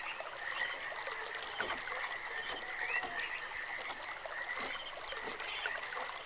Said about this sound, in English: I don't know why water in a pipe makes this sound